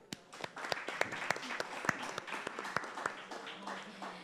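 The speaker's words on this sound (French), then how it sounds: "nous vous demandons aussi de vous applaudir vous-même" Small audience clapping at an evening philosophy-night session on women's civic engagement, a thin, fairly quiet round of claps with distinct sharp hits, steady for about four seconds without fading.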